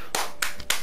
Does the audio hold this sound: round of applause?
yes